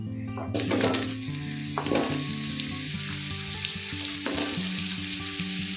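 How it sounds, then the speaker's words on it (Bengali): Carrot pieces dropped into hot oil for a mixed vegetable dish, giving a loud, continuous sizzle and crackle with a few stirring scrapes, close up and with no voices. "তেলটা গরম হয়ে গেছে। প্রথমে আমি এখানে এবারে দিয়ে দিচ্ছি গাজরগুলো"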